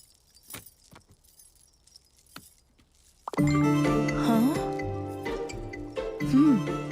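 Vehicle keys jangle and clink near and clear as they are picked up and handed over. Then a loud, sustained tonal music swell comes in and covers the rest.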